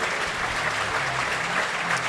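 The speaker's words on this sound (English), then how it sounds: "so applause coming from over there." A speedway crowd at a Poole Pirates versus Berwick Championship meeting applauds steadily as a fallen rider gets back on his feet, a dense even wash of clapping with a low background rumble throughout.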